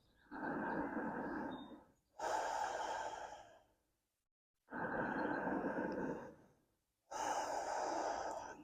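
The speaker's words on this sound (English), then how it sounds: "We'll take 2 more breaths." Slow, deep breaths during a yoga flow, with two long inhale-exhale cycles heard close and airy and quiet gaps between them, and no talk.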